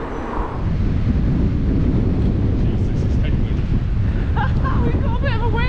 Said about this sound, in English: Well, it is super windy this morning.